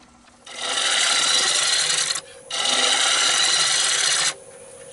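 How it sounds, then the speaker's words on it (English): A bowl gouge makes pull cuts on a warped wooden clock blank spinning on a lathe, two long, loud, rasping scrapes of about two seconds each, separated by a brief pause. "I'm just using pull cuts with the wing of the bowl gouge just to true it up, because it is warped a little bit."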